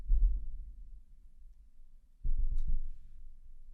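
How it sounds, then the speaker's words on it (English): Distant artillery fire at Camp Pendleton, heard as two low, muffled booming rumbles a couple of seconds apart, faint and rolling off slowly in a quiet outdoor setting. "What you're hearing are artillery going off on Camp Pendleton right now"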